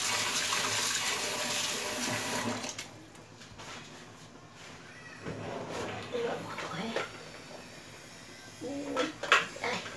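Water pours into a pan of seafood and fish paella, a loud steady splashing for a couple of seconds that then stops, followed by quieter kitchen sounds with some talking.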